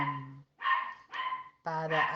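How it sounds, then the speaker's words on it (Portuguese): A dog barks close by in four loud bursts with short pauses between them, some drawn out like yelps or whines. "eu vou ter que parar porque aqui o cachorro não deixa"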